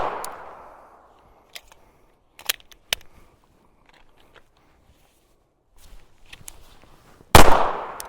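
Gunshots fired at a target: a loud nearby blast near the end after a few sharp distant cracks and clicks, with a fading echo at the start and quiet gaps between.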